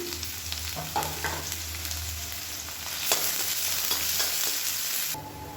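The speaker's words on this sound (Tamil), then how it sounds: "இப்போ கொஞ்சமாக எண்ணெய் விட்டுக்கலாம். பூண்டு வந்து வறுத்து எடுத்துக்கலாம்." Crushed garlic fries in oil with a steady, dense sizzle and occasional stirring scrapes, close by and continuous until it cuts off near the end, with no voices.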